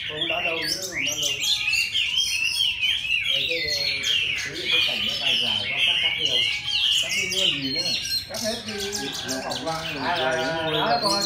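An oriental magpie-robin sings in bright, varied whistled phrases that run steadily through the whole stretch, close and loud. Low, murmured voices talk in the background.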